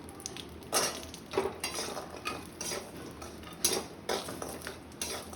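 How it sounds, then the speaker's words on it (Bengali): Homemade kalai dal bori frying in a pan, heard as clattering stirring and scraping of a utensil against the pan in repeated bursts over a low background sizzle, close by. "বড়িটা ভেজে নেব"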